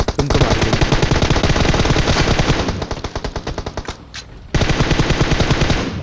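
Rapid automatic gunfire rattles loudly and continuously through a video game shootout, with a short lull before another burst of fast shots resumes.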